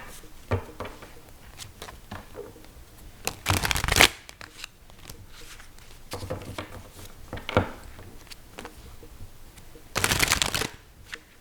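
Tarot cards shuffled by hand in two bursts of riffling patter, near and fairly loud, with quieter handling taps in between and no talking.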